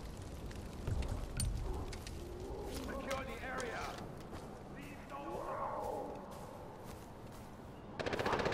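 Rapid machine gun fire rattles in Far Cry 4 in several bursts over roughly eight seconds, fairly quiet and mixed with game noise while someone talks over it.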